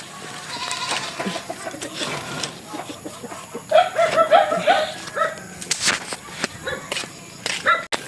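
Goats bleating in bursts at a rural farm, with a chicken or rooster and other livestock around; cries come close and mid-distance over a busy outdoor background.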